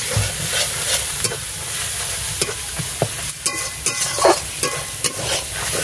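Ginger-garlic paste with turmeric and red chilli powder frying in oil for a village chicken curry, a steady loud sizzle broken by repeated scrapes and clacks of a spoon stirring close by, with no voices.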